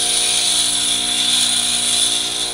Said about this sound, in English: This is a much finer grinding wheel, so you don't want to push too hard on it.